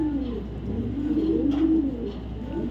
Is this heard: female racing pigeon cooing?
yes